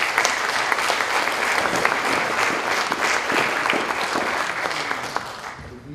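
An audience at a high school band concert gives a sustained round of applause for the band students, many hands clapping densely and evenly before the sound tapers off near the end.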